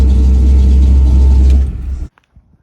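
A 1986 Chevy Silverado K10 pickup truck's loud, deep engine idles with a steady rumble, then cuts off abruptly, leaving a brief rattle and near silence.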